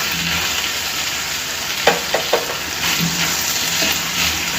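Potato and fenugreek curry sizzles steadily in a pan while a spoon stirs and scrapes through it, a few sharp clinks standing out against the continuous frying hiss, close and loud with no voices.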